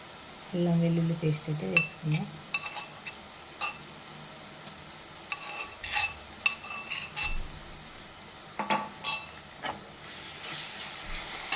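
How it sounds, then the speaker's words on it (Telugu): Ginger garlic paste sizzles and is stirred into softened onions and mint in a pan for a masala gravy chicken curry, with scattered spoon scrapes and clinks against the pan over a low, steady frying hiss. "అల్లం వెల్లుల్లి పేస్ట్ మంచిగా వేగాలి, లేకుంటే అల్లం వెల్లుల్లి పేస్ట్ స్మెల్ అనేది వస్తుంది."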